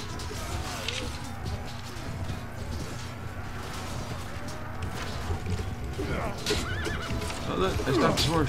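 Horse neighs and clip-clopping hooves in the video game Pendor, with whinnies rising over a busy bed of battle clatter and creaks, several calls toward the end, under a low game mix.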